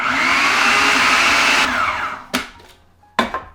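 A food processor pulses graham cracker dough ingredients with brown sugar, its motor loud and close with a steady whir for under two seconds, winding down, then two short sharp bursts follow.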